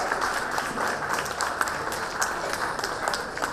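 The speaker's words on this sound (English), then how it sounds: "Please give him a big round of applause." A crowd at a preschool annual day applauds steadily, many hands clapping together in a dense, continuous patter with no talk over it.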